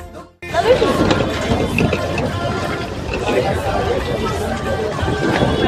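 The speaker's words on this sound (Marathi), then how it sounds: "गर्दी बघा भावांनो." Dense crowd chatter and babble at a busy Indian railway station, many overlapping voices near and far with shuffling and clatter, continuous after a brief quieter opening.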